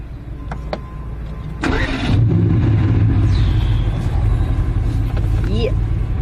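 A Mercedes-AMG engine cranks and fires up with a loud roar, then settles into a deep, rumbling idle; brief clicks come before, and a person speaks over it.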